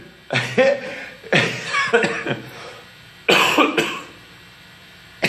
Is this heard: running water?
no